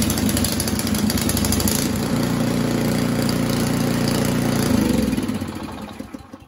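An Ariens Compact 24 snow thrower engine runs after an electric start, a loud, steady close-up drone that shifts in pitch partway through and then fades out near the end.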